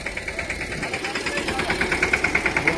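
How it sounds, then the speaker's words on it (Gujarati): A tractor engine idles close by, its rhythmic diesel chugging pulsing steadily and growing slightly stronger toward the end. "અમારા કાકા ટ્રેક્ટર લઈને જાય છે"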